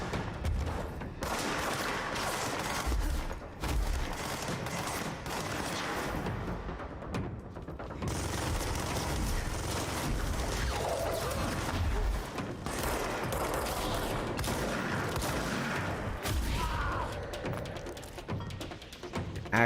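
Sniper gunfire in the video game Control, a dense, continuous barrage of shots and booming blasts that stays loud throughout, with no talking.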